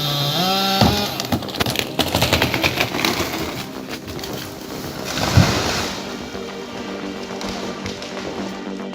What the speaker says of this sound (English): a chainsaw roars as a lumberjack skillfully fells slanted dry trees